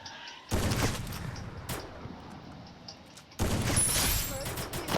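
Sniper fire in the mobile battle game Free Fire Max, heard as bursts of gunfire noise that start abruptly, drop off, then return loud near the end, with game sounds throughout.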